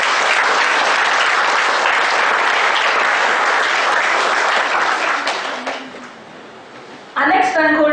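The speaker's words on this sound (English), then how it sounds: "a big round of applause" A hall audience breaks into loud, dense applause to welcome a speaker at a rankers' felicitation event, steady for about five seconds before fading out, followed by a voice resuming.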